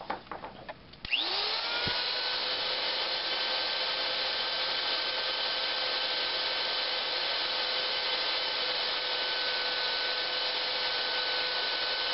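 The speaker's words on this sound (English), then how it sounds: "What I'll do is I'll mark it so I know how much I'm taking off, and then I'll go ahead and grind it." Grinding a trigger part from a Glock 23 Gen 4 pistol, a rotary tool spinning up to a high steady whine that holds constant, with brief contact scraping at the start.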